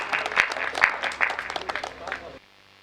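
An audience in an assembly hall claps for a legislator in a brief, uneven burst with a few sharp louder claps, and it stops abruptly into near silence.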